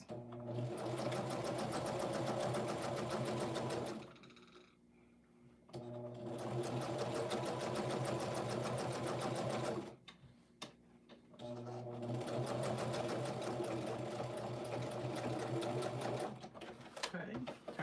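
A sewing machine stitches a quarter-inch seam on quilt pieces in loud, steady whirring runs, with two short pauses where the fabric is turned, and a voice talking now and then.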